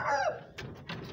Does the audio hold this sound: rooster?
yes